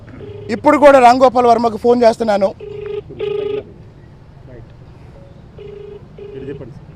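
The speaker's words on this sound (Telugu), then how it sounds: "ఇదిగో ఇప్పుడు కూడా మళ్ళీ రాంగోపాల్ వర్మకు ఫోన్ చేస్తున్నాను." An outgoing phone call rings through, with a repeated ringback tone in short bursts after someone speaks at the start. The tone sits faintly in the background, alone and steady.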